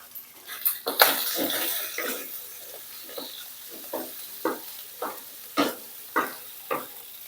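Marinated pork being stir-fried in a pan for rice-noodle pad see ew, with a spatula scraping and clanking against the pan in a steady rhythm over a soft sizzle, fairly close.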